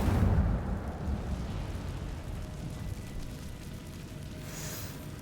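An Incendio fire spell cast in Hogwarts Legacy bursts with a low whoosh and rumbling roar that fades slowly, with a faint bright shimmer near the end.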